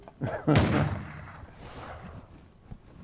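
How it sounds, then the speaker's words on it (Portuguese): Two gunshot sound effects play during a Brazilian talk show: one loud, booming blast early on, then a much fainter crack a couple of seconds later. "Essa vez não é um tiro, é 2 tiros, um em cada pé"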